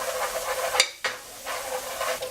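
About a tablespoon of garlic sizzles and browns in a hot pan, a steady close crackle broken by a short pause as it is stirred, with no voices.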